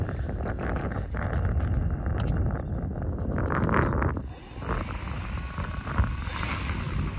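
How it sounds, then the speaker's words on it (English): An electric motor on an FPV plane is test run, a loud whirring propeller drone with gusty buffeting, then a sharp high-pitched motor whine rising in from about four seconds and holding steady. "The motor works."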